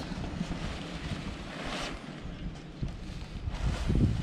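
Wind picking up over a sailboat at sea makes a steady broadband rush with gusty swells, moderately loud and continuous, with a louder surge near the end.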